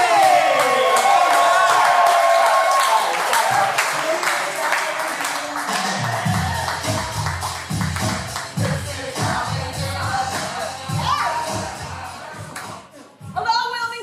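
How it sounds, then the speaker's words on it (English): A live audience claps and whoops loudly for an improv comedy troupe taking the stage in Wilmington. The cheering is strongest at first, then a broad wash of applause carries on under overlapping chatter and voices. "Big round of applause for Black Market Bologna!"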